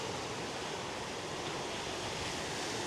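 Ocean surf rolls onto an uncrowded beach with freezing-cold water, a steady, loud wash of broadband noise with no talking.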